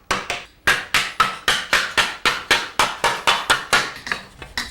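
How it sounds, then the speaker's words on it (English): A hammer pounds copper sheet into a three-dimensional goose shape: a rapid, even series of about twenty loud, ringing metallic strikes, close by and alone. "Once the copper is cool, Travis hammers away, pushing flat metal into a three-dimensional shape."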